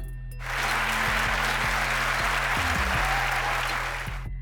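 A legislative assembly in El Salvador applauds in a chamber: sustained, dense clapping from a large crowd that swells quickly and then holds steady, with a low hum underneath.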